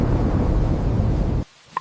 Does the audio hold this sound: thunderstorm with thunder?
yes